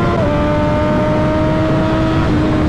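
A 2016 Triumph Daytona 675 R motorcycle accelerating hard, its loud, high-pitched engine note holding a steady rising whine close to the rider, with no other sounds over it.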